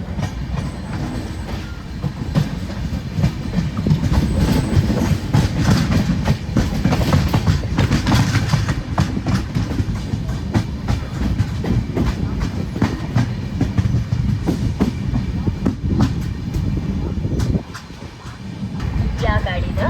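A train runs steadily along the Konkan Railway as it comes into the small Sindhudurg station, with continuous rumbling and rhythmic clickety-clack of wheels over the rails, close and loud, while people talk beneath it.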